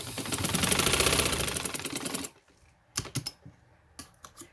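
Sewing machine stitching silk palazzo fabric in a rapid, steady whir for about two seconds, then stopping, followed by a few scattered clicks and taps close by, no voices.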